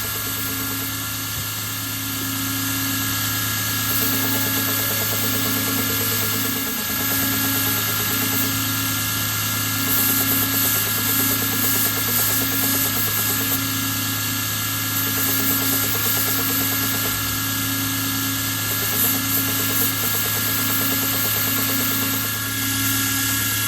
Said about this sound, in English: like I'm doing now using the slack belt, to round all the bevels and sharp corners